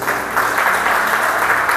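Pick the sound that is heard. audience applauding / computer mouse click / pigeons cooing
audience applauding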